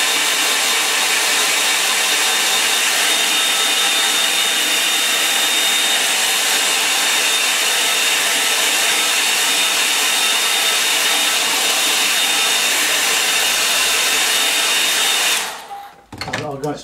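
A hair dryer blowing hot air to dry paint on a landscape painting, a loud steady whooshing drone running unbroken for about fifteen seconds before cutting off.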